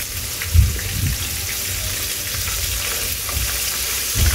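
Floured shrimp frying in hot oil in a deep fryer, a steady low bubbling hiss with a few louder pops and crackles throughout.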